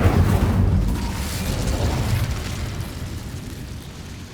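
A spell blast detonates in Hogwarts Legacy, a loud booming explosion at the start that rolls into a long rumbling decay, with no voices.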